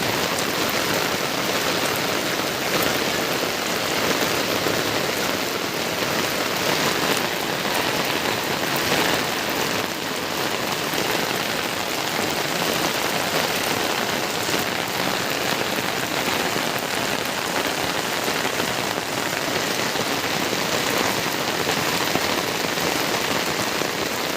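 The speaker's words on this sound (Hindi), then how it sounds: "काफ़ी बारिश हो रही है।" Heavy rain pours down steadily, a dense, unbroken hiss of drops drumming on surfaces that holds at an even, loud level for the whole stretch with no voices over it.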